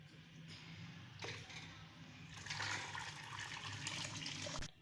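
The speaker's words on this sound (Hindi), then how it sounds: "इसको अब छान लेते हैं।" Dissolved jaggery liquid being strained, a pouring, gushing stream of liquid with splashy surges that grows louder midway and stops abruptly at the end.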